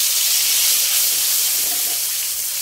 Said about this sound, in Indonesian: Setelah minyak panas, masukkan bumbu yang sudah dihaluskan tadi.